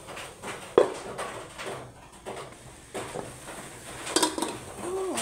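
A lid is set onto a cooking pot of broth with rice and chili, a few clattering metal knocks and scrapes amid light kitchen clatter and a faint background voice.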